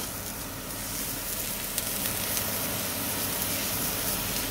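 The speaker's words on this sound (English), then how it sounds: "let's cook the beef patty" Beef patty for a double cheeseburger frying in a hot pan, a steady dense sizzle that holds at an even, close level throughout, with a few faint crackles and no talking.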